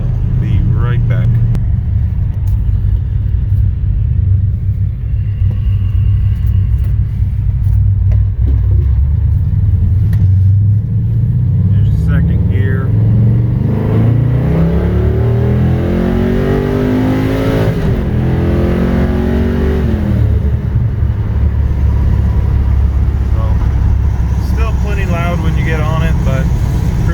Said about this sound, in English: see if I can get a clip of it accelerating on the highway here